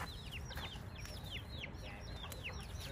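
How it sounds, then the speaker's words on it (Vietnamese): A flock of chickens, kept by a homeless Vietnamese-American cowboy raising them for a living in the US, clucks and chirps repeatedly in a steady, busy chorus over outdoor background noise, with no talking. "Gà quá trời luôn á."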